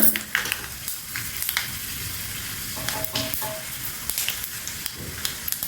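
Chana dal, urad dal and mustard seeds tempering in hot oil in a pan, a steady loud sizzle with crackling pops and occasional stirring scrapes, no talk.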